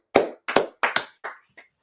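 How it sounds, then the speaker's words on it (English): A small class claps together in about six short bursts, the first few loud and close, the last ones thinning out and fading toward the end. "Clap it up."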